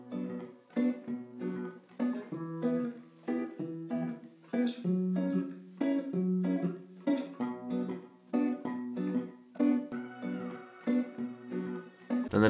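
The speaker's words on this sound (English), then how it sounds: "I started off with this guitar loop that sounds like this" A looping old-school guitar pattern built in FL Studio plays on its own, with clear plucked notes repeating in a steady rhythmic figure at moderate loudness throughout.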